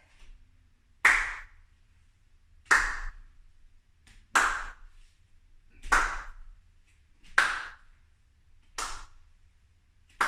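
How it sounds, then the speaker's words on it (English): Slow, evenly spaced hand claps, about one every second and a half, each crisp and alone against near silence. "bring your hands together and let's clap really slowly"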